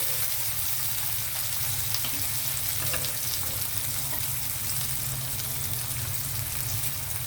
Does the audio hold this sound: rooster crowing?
no